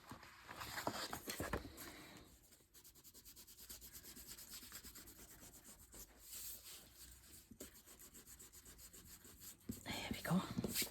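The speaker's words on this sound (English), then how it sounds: "Let's just rub that line out of this one" An eraser rubs out a pencil line in a steampunk journal, a soft, close scrubbing rasp that runs in quick back-and-forth strokes, louder at the start and end, with faint breathy sounds around it.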